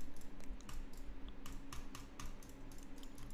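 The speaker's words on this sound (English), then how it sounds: "How comes every time you, like, speak, I hear clicking, though?" A computer keyboard clicks rapidly under gaming chatter, a dense, irregular patter of sharp keystrokes that runs through the whole stretch at close range.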